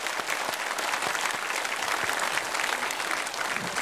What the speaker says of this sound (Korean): 박수로 축하합시다.